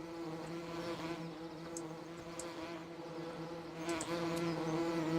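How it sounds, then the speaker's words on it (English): Bees buzz around hives on a farm in the video game Farm Simulator 17, a dense, continuous drone with a steady hum, heard alone without talk. "And you can hear them all buzzing around."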